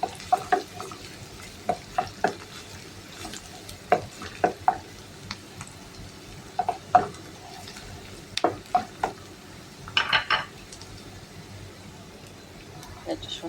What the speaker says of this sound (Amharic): ነጭ ሽንኩርታችንንም እንጨምረዋለን። አብረን እሱንም እናበስለዋለን። እንደዚህ በደንብ አድርገን ሽንኩርታችንን እናበስላለን